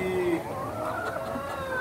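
Laying hens cluck steadily at a poultry farm, a dense overlapping chorus of soft clucks and calls at close range with no talk.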